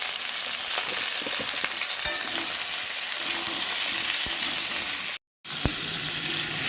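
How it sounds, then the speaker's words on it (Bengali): Pointed gourd and potatoes fry in a pan with salt and turmeric, giving a steady close sizzle with a few clinks of a utensil and a brief dropout near the end. "লবণ হলুদ দিয়ে পটল আলুটাকে ভেজে নিতে হবে"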